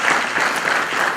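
A conference audience bursts into applause, a brief, dense, steady clapping from a large crowd in a hall.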